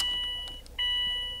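A Hawkeye Spec C car's key-in warning tone sounds steadily, dips briefly, then resumes as a continuous high beep, clear and close.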